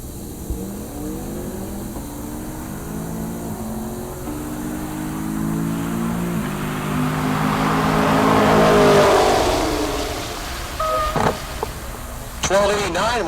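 A retro Chevrolet Nova drag car accelerating down the strip at Heartland Park Topeka, its engine building to a loud roar then fading, with a race announcer talking over it throughout.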